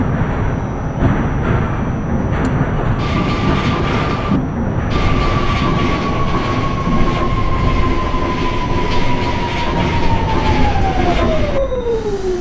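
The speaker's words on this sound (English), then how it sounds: "This is a Far Rockaway bound A train." An R46 subway train on the A line bound for Far Rockaway runs loudly in the OpenBVE train simulator game, with a steady rumble under a whining motor tone that rises, holds, then glides down as the train slows.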